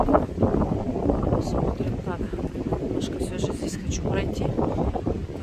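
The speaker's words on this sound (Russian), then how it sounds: "ветер сильный." Strong wind on the Novorossiysk seafront buffets the microphone in a loud, continuous rumbling roar that persists for the whole stretch, with faint higher sounds drifting through.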